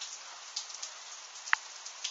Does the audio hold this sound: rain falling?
yes